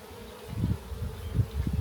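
Honey bees buzzing around an open hive during an apiary frame inspection, a low droning hum that swells and pulses in waves as bees move close by, with no voices.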